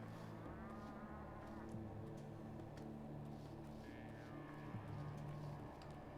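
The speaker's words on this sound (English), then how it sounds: "Every day I hear anguished mooing." Cattle moo in the video game Pathologic 2, long low drawn-out lowing calls repeating under a dense, steady ambient drone and soft game background noise.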